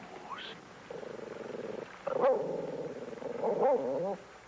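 A cartoon hunting dog bays on the scent in a run of sustained, wavering howls, close and fairly loud, rising in pitch toward the end.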